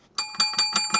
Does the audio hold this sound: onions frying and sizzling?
no